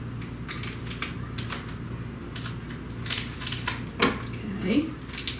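Dry biscuit mix and a seasoning packet are whisked in a bowl, giving a string of quick scraping, ticking strokes. A voice is heard briefly partway through.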